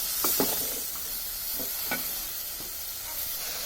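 Eggplant and potato fried and stirred in a pan, a close steady sizzle with a few spatula scrapes at uneven intervals, no voices.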